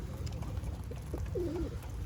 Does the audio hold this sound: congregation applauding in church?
no